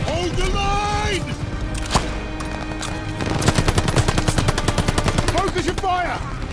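Sustained machine gun fire in the World War II shooter Call of Duty Vanguard, rapid loud bursts of gunfire with dense repeated shots, joined by distant explosions and shouted in-game commands.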